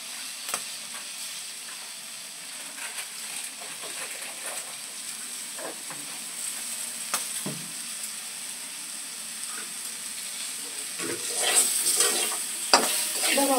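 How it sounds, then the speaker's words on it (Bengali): Spices and green chilli fry in a pan over a gas flame, a soft steady sizzle with scattered stirring scrapes, growing a little louder and busier toward the end. "আমি ভালো করে একটু ভাজা ভাজা করে নেবো।"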